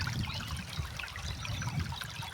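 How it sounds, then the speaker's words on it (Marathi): Clean water trickles and burbles steadily along a village stream in the Konkan countryside, a soft continuous flow with a low rushing undertone and no voices. "पाणीचा आवाज ऐका, एकदम क्लीन वॉटर"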